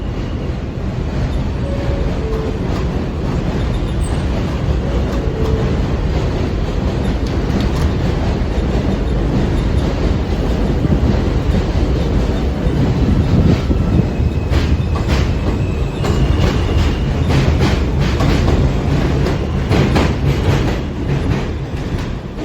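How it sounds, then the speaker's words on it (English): An R160 NYC subway train on the Manhattan-bound F local line rolls through Avenue P station, a loud continuous rumble with clattering wheels and faint squeals, close by and without speech. "Manhattan-bound F local train."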